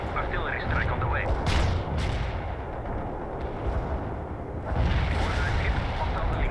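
Artillery strike in the World in Conflict Soviet Assault battle on a snowy map, with rumbling booms and heavy blasts rolling continuously and swelling again toward the end, while voices talk over the barrage.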